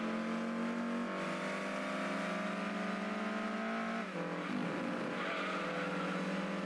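A Ford race car engine in the Gran Turismo 2 video game drones loudly and steadily. Its pitch shifts through gear changes, with a brief dip and a tire squeal partway through.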